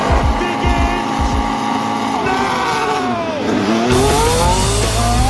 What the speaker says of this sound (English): enjoy the sound of 20 Formula One cars throwing themselves down towards the first corner of the World Championship